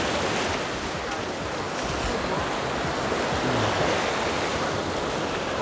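Black Sea waves roll onto a packed beach in Anapa, a steady full-band wash of surf with wind noise on the microphone, continuous and loud throughout with no clear voices.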